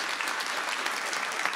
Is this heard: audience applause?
yes